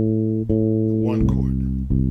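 Electric bass picking out the third of each chord through a progression, a few sustained notes changing around half a second and later, played alone.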